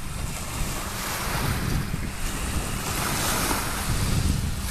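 Water at the shore of Lake Tahoe on a summer day, a steady washing rush of small waves blended with gusty wind buffeting the microphone, with no voices.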